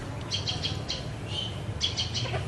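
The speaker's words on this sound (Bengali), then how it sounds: "অপর একটি ডোবা পুকুরে ঘুরে বেড়াচ্ছে একটি ডাহুক পরিবার বাবা ডাহুক মা ডাহুক আর তাদের ছোট্ট একটি ছানা" A white-breasted waterhen family of two adults and a small chick at a weed-covered pond in a forest, with faint, short chirping calls in scattered bursts over quiet ambient noise.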